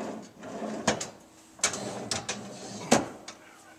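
Freezer drawers on a GE Profile stainless steel side-by-side refrigerator sliding open and shut, giving several short clunks and rattling slides in an irregular sequence, close and fairly loud.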